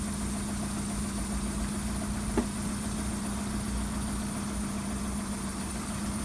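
A VW Golf 1.6 engine idles rough with a misfire, giving a steady low drone with one brief knock partway through. No one speaks.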